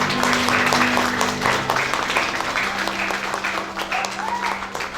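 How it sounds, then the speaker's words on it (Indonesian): Guests at a wedding blessing break into sustained, lively applause, with a crowd of hands clapping steadily throughout and a few voices murmuring underneath. "mari kita sambut mereka dengan memberikan tepuk tangan yang meriah"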